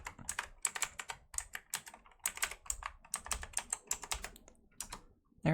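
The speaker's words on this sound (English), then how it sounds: "I am currently typing in chat." Rapid, uneven computer-keyboard typing during an ASMR livestream, close and crisp, with bursts of keystrokes and short pauses and no talking.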